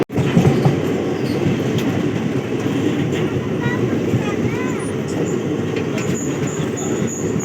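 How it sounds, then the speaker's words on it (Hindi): A passenger train pulls into Bachhwara junction with a continuous loud rumble and rattle of wheels on track, faint squeals rising over the steady roar. "अब अपनी ट्रेन बछवाड़ा में इंटर कर रही है, बछवाड़ा जंक्शन।"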